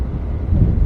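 Wind buffets the microphone while riding a Honda Africa Twin motorcycle, a dull, low rumbling roar that swells slightly toward the end of the brief moment.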